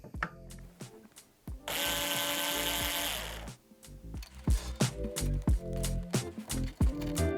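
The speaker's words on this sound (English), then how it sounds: "I'm going to take my trusty little Bosch screwdriver and get to work on removing everything." A small Bosch electric screwdriver removes screws from a vintage cocktail cabinet. One loud whirring burst of almost two seconds is followed by a run of sharp clicks, taps and clatter of screws and wood being handled.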